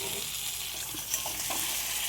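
Marinated mutton sizzling in a pan of cooked-down spice paste as it is stirred, a steady frying hiss with a few scraping clanks, close and without talk.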